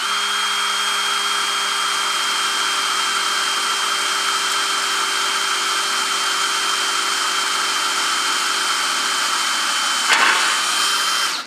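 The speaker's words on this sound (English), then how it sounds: "Get the tip of the drill on the center punch." A small electric drill boring a hole into heavy steel, a steady loud whine running nearly unbroken for about eleven seconds, with a brief rougher burst near the end before it stops.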